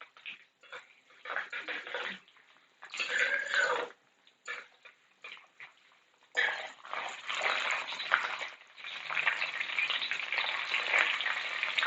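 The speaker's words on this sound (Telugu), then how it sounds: "నూనె వేడెక్కిందండి, పోపు వేసేసుకున్నాం." Tempering spices crackle and sizzle in hot oil, in irregular bursts of spitting that swell into a sustained sizzle, close and moderately loud, while cooking vegetables at home.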